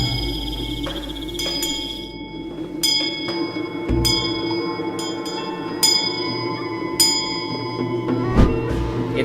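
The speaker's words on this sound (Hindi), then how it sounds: "दूसरे दिन भी घंटी की आवाज आती है" A bell rung repeatedly at night outside a house, heard as a series of bright, ringing strikes at irregular intervals that stand out over a steady low background hum.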